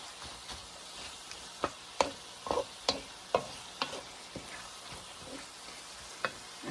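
Ground beef sizzling in a frying pan while a utensil stirs it, a low steady sizzle broken by a series of distinct scraping clacks at irregular intervals, close and without speech.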